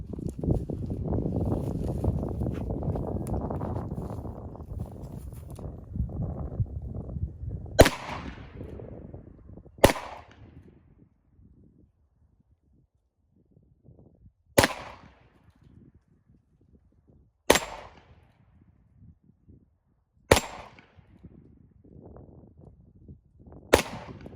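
A Smith and Wesson Model 547 9mm revolver fires about six sharp, echoing shots spaced a few seconds apart, each a loud crack that rings and decays, following an earlier stretch of broad rumbling noise.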